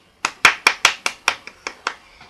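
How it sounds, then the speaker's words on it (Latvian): A single person clapping by hand, about nine sharp, evenly spaced claps close by with no talk, the final one faint. "vislielākie aplausi pašlaik Alisei Rancānai."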